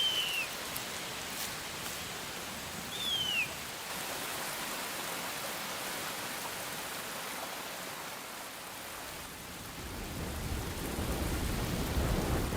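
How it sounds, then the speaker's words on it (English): Heavy downpour in the Amazon rainforest, a dense steady hiss of rain with a low rumble of thunder building toward the end, while faint bird calls sound briefly near the start. "The downpours are dangerous for the harpy eagle chick."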